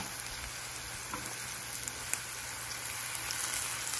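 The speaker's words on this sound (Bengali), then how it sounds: "পেঁয়াজ রসুনগুলো ভাজা ভাজা হয়ে গিয়েছে" Onion and garlic frying together in a pan give off a steady, soft sizzle that stays even throughout, with no voices.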